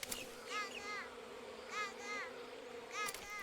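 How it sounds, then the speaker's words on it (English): Bees buzzing in the stealth game Metal Gear Solid 3 Delta, a close swarm whose whining drone swells and fades in several passes, heard alone without talk. "Bees!"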